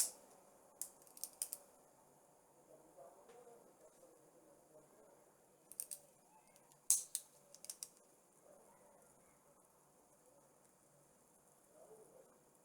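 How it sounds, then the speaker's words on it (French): Pen or marker strokes drawing cubic parabolas by hand on a board, heard as scattered faint scratchy bursts in a quiet room, clustered in short groups with gaps between. "je vais dessiner les paraboles cubiques"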